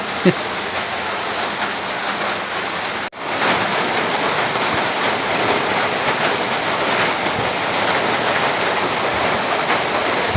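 Heavy rain pours down at night in a village, a loud dense unbroken roar of drops hitting surfaces, briefly dipping once before resuming at full strength.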